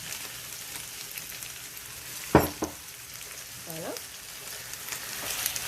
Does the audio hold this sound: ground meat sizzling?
yes